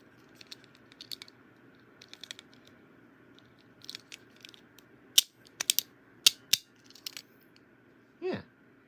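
A Beyblade Burst Pro Series layer ratchets with scattered light plastic clicks, then a handful of sharper, louder clicks, close-up in a quiet room, ending with a brief scrape.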